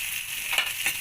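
Whole spices (coriander, cumin, dried chillies, bay leaf, cloves and cardamom) fry in a hot pan for a chicken curry, giving a brief, steady hiss of sizzling broken by a couple of soft stirring scrapes.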